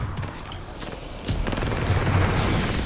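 Shotgun fire in a Call of Duty shooter on the Shipment map, with repeated loud blasts and booms that thicken into a dense burst partway through.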